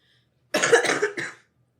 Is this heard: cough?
yes